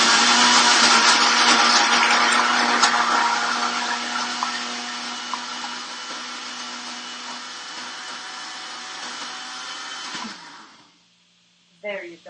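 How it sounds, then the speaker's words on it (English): Countertop blender whirring loudly as it purees soaked dates, a steady dense motor roar for about ten seconds before winding down and stopping, followed by a brief clatter near the end. "I'm just going to show you how easy it is to blend these dates up once they are soaked"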